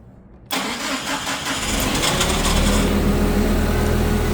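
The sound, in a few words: Mitsubishi Caterpillar 5000lb engine cranking with starter and starting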